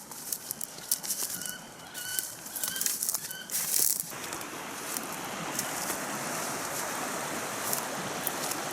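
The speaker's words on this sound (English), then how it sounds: "Some ducks." Ducks flap their wings beside a forest stream, a burst of wingbeats over the first few seconds before steady running water and outdoor wash take over.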